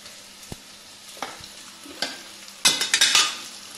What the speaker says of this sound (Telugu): పూరి పిండి కలుపుతాను